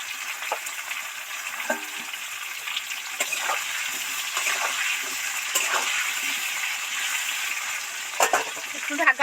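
Potatoes deep-fry in plenty of oil with a continuous, even sizzle, punctuated by occasional utensil clinks and stirring.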